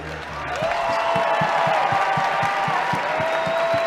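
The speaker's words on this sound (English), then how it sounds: "please just join me in a round of applause to appreciate these guys here" Audience at the 2017 Mr Olympia bodybuilding contest swelling into applause and cheering, a large crowd clapping steadily with a rhythmic pulse, loud and sustained, with a sustained tone or whistle riding above the noise.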